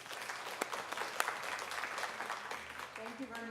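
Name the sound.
audience applause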